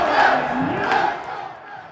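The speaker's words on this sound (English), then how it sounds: "when they finally announced the Mets, this place exploded" Mets fans roar loudly in a packed crowd at Citi Field during an NLDS game, a dense wall of cheering that peaks early and then slowly fades.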